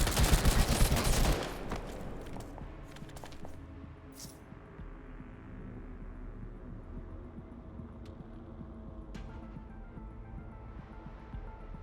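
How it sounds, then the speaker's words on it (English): Gunfire in the video game Girls' Frontline 2: a loud, dense burst of rapid shots opens, then the action drops to a quieter rumbling backdrop with a few sharp, scattered shots. "They start shooting up the place."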